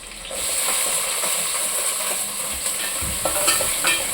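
Small shallots sizzle and fry steadily in a hot pan for a fish curry, a continuous crackling hiss with occasional stirring clinks.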